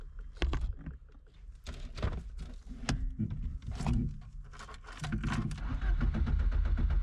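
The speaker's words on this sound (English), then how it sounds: "The engine even started right away." A Lamborghini engine starting in Fortnite: clunky mechanical clicks and knocks from the ignition lead into a low rumbling idle that grows fuller and steadier toward the end, close and fairly loud.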